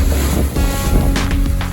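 A catamaran sailing through ocean waves, loud rushing water and wind buffeting the microphone, with surges of splashing spray and no voices.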